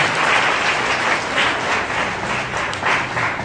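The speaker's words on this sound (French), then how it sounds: "Nous applaudissons pour le Seigneur Jésus-Christ pour cette œuvre que nous avons." Church congregation applauding together, a steady wash of dense clapping that swells and eases in waves for a few seconds, with no voices heard over it.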